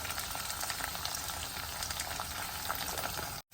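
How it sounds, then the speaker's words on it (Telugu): Green chillies and curry leaves frying in hot oil for pappu charu, a steady, close crackling sizzle with faint bubbling, cutting off briefly near the end. "ఇందులో పచ్చిమిరపకాయలు కరివేపాకు వేసి ఇప్పుడు బాగా వేగనివ్వాలండి"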